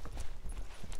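A horse walking at a slow pace, its hooves giving soft, fairly faint clip-clop footfalls in a steady rhythm over about a second.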